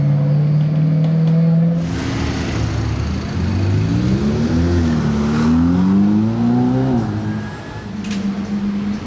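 A Maserati 4200 GT engine revs loudly and continuously, its pitch swelling and dipping as the car accelerates and passes close by, with a rough exhaust note throughout.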